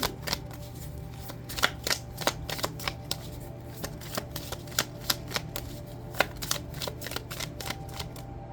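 A deck of cards is shuffled for a card reading, with rapid crisp riffling and flicking in quick irregular bursts over a low steady hum.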